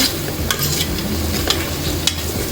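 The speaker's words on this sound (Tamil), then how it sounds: "போட்டு நல்லா அந்த உப்பையும் நல்லா இப்படி கிண்டி விட்டுருங்க இந்த வெங்காயத்தோட" Sliced onions frying in a pan with salt are stirred briskly, a steady close sizzle broken by a few sharp scrapes of the spoon against the pan, with no voices.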